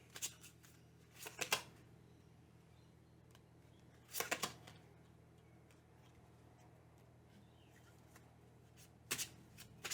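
Tarot cards are shuffled in short riffling bursts, a couple of quick rustles at the start, another in the middle and one near the end, with quiet hiss between them.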